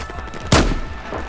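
Gunfire in the shooter game Battlefield 4: a single loud, sharp report bursts in mid-clip and rings out over a steady battlefield background, with a fainter second shot shortly after.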